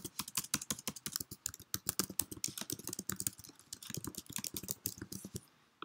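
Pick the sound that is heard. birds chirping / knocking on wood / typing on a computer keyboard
typing on a computer keyboard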